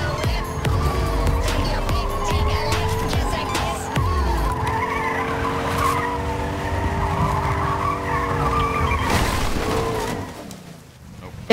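Car driving and skidding in the video game Fortnite: a steady engine drone with drawn-out tire squeals runs throughout, loud and close, then cuts off abruptly near the end.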